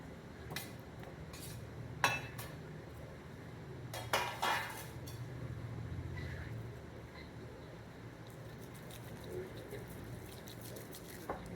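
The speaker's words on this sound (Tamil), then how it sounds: "இப்படி நல்லாவே மசிச்சு எடுத்துருங்க." Chopped cooked plantain for Malabar unnakkaya is mashed in a bowl. A few scattered utensil clinks against the bowl and soft pressing sounds come through, quiet and close, in a calm kitchen.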